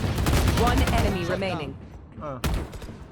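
Gunfire in Valorant: rapid bursts of shots crackling under an excited voice, then a sudden loud shot after a brief lull, all close and punchy.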